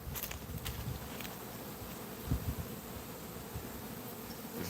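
Honey bees fly around a hive in a steady, busy buzzing drone of many insects, close and continuous with a few louder passes, and no talk.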